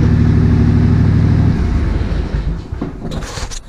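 A Walker riding mower engine runs at a loud, steady idle and then shuts off about halfway through, its drone breaking up into sputters and fading to quieter rattles and faint background noise.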